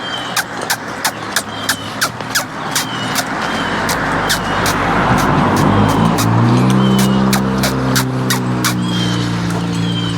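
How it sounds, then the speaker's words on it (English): A car approaches along a road beside a pasture, its engine swelling from faint to loud as it passes close and then fades, with rhythmic clicks and rustling heard throughout. "I hear a car coming."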